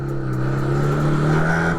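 A Honda Rebel 125 motorcycle with its airbox removed runs steadily close by, its engine note holding even and then dropping off sharply at the end.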